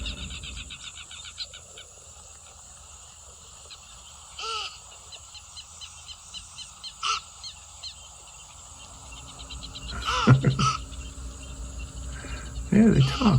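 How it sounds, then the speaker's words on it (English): Capybara calls played from a recording, a few short chirping and clicking sounds over a steady insect-like hiss, growing busier and louder toward the end. "this is the sound of the capybara."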